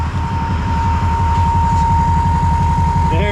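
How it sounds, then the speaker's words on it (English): A newly started engine idles with a steady pulsing low rumble and a continuous high whistle from the turbo, loud and close, with a brief rising whine near the end. "The turbo sounded real nice."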